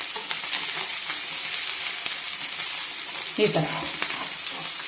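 Fish pieces fry in hot oil with a continuous sizzle as they are turned over in the pan, a spatula scraping now and then, with a brief voice speaking over it.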